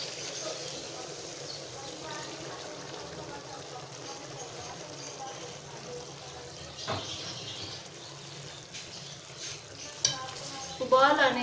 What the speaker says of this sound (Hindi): अब हम इसमें दूध डाल देते हैं।